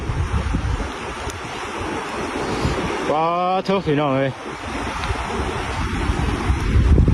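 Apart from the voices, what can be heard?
high water rushing and flowing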